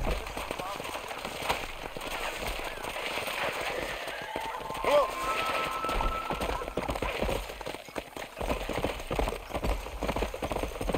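Horse hooves clip-clopping at a gallop in the Red Dead Redemption video game, steady rapid hoofbeats with a brief neigh midway, under game ambience and someone talking.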